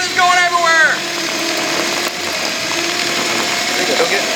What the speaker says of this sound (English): So we have our chicken plucker drill.